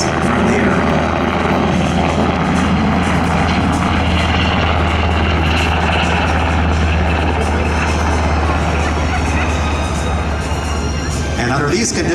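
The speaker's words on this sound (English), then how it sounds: "Now the helicopter is putting the nose down for the egress from the air." An HH-60G Pave Hawk helicopter flies at an air show, a loud continuous rotor and engine roar that holds steady throughout while a voice talks over it.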